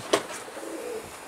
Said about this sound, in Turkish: Dışarıdan sana kuş getirdik.